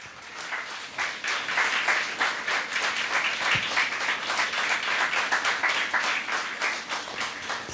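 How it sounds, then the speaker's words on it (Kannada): A church congregation at a Sunday service claps loudly and continuously, a dense sustained patter of many hands filling the room for several seconds. "ಇನ್ನೊಮ್ಮೆ ಜೋರು ಚಪ್ಪಾಳೆ ತಟ್ಟೆ"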